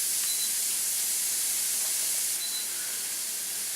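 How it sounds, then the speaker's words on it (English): Steady, loud hissing sizzle like food frying in a hot pan, continuous and close with no talking. "you can hear from the sizzle that the pan was about the right temperature"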